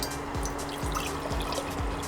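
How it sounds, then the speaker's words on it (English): Water pours steadily into a pot for cooking pasta, a continuous close splashing stream with a few gurgling glugs as the level rises. "I'm gonna pour all the water inside."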